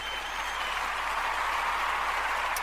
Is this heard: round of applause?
yes